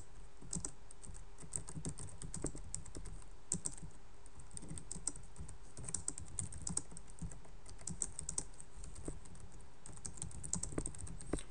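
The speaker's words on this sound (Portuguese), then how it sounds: "tô tendo que digitar tudo porque tudo é protótipo ainda" Someone types steadily on a computer keyboard while entering prototype code, a fast run of light clicking keystrokes with brief pauses, quiet and close, with no talking.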